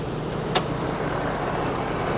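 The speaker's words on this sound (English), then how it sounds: "it sounds like a proper diesel. It's not too loud, but it's got a nice throaty, diesel-y sound to it" A 2019 Ford F-250 Limited diesel engine idles with the hood open, a steady, moderately loud rumble with a single sharp click early on.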